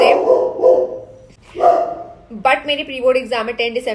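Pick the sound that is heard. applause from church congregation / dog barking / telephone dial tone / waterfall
dog barking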